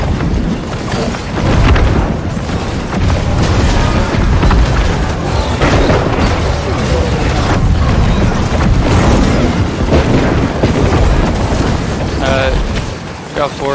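Cannons fire during a siege defense in the online game New World, a dense, continuous barrage of booms and blasts layered with battle noise, loud and unbroken throughout.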